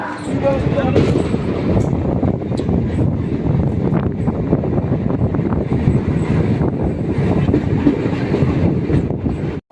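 A local train runs from Naihati to Sealdah, loud and steady for the whole stretch, with rumbling wheels, clattering rail joints and wind buffeting the microphone. Faint voices come and go beneath the noise.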